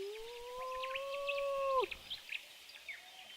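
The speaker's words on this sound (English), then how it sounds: "you can hear different wolf sounds depending on where they are" Wolf howls from The Lost Island video game: a long, steady tonal howl that rises slightly and drops off sharply at the end, followed by fainter, thinner howls and high chirping calls in the background.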